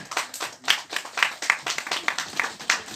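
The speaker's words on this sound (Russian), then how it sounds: "Под ваши бурные аплодисменты не жалейте" Audience clapping at a children's award ceremony at a competition, a close, steady patter of many hands in uneven bursts, lasting throughout with no talk over it.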